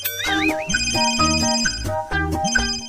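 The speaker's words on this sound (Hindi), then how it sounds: "इतने में उसका फोन बजने लगा" A melodic ringtone plays close and loud, a bright tune with repeating phrases and a warbling trill.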